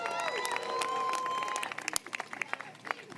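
A crowd applauds and cheers for New York Governor Kathy Hochul, steady clapping giving way to scattered claps and whoops near the end.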